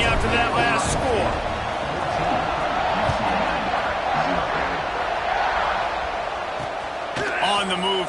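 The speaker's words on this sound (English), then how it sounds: "this crowd is buzzing after that last score" Football stadium crowd at an Ohio State versus UCLA college game, a broad steady roar and buzz after a score, loud and continuous, with a commentator talking over it throughout.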